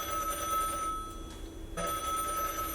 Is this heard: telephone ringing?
yes